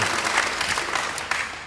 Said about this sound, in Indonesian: Beri tepuk tangan sekali lagi bagi dia.